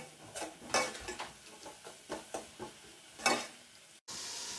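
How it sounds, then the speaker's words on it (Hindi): Spices for beef degi biryani being stir-fried in a pot, a quiet sizzle under a series of rhythmic scraping and clinking stirs of spoon against metal, ending in a sudden louder hiss. "मसाले डालने के बाद 3 से 4 मिनट अच्छी तरीके से भून लेंगे।"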